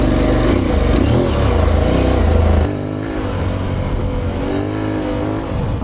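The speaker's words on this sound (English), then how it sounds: "It is quite loud for original exhaust." An Aprilia Tuareg Rally motorcycle with its original exhaust rumbles loudly up close in Belgium, revving with a steady harmonic drone that drops to a lower idle-like note partway through, no speech over it.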